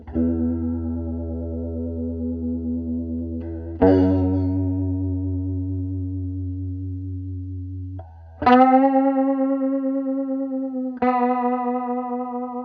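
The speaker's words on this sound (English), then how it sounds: "So you're going to hear a wobble in the pitch." Electric guitar notes held with a steady, regular pitch wobble, several sustained tones in sequence, loud and alone.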